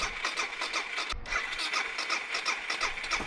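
A motorcycle engine with a new exhaust starts and runs, giving a steady, loud, throbbing idle with a rhythmic pulse and a brief dip near the start, heard close up with no talking.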